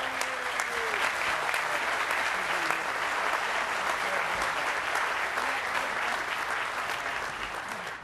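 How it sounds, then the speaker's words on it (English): A large outdoor crowd gives sustained, dense applause at a BART Silicon Valley groundbreaking ceremony, the clapping continuous and even for several seconds with faint voices mixed in. "Let's give them all a round of applause"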